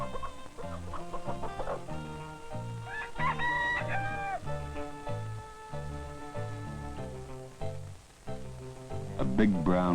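A bantam rooster crows in a bright, rising call about midway, surrounded by a steady upbeat musical score with plucked, bouncing notes and clucking fowl, as in an old educational film.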